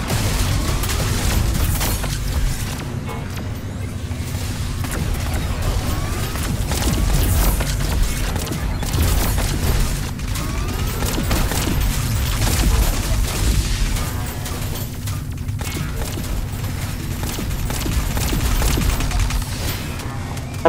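A heavy weapon in a video game fires in sustained, loud, booming volleys that run almost without a break for about twenty seconds, dense rapid bursts layered over a deep rumble.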